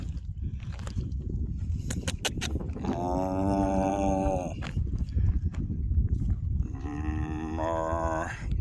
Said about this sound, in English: Hey, look at these beautiful cows.